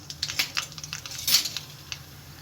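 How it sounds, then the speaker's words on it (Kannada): Mustard seeds dropped into hot oil in a cooking pan make faint, scattered crackles and ticks over a couple of seconds, with no talking. "ಇದಕ್ಕೆ ಸಾಸಿವೆ ಹಾಕೊತಾ ಇದ್ದೀನಿ."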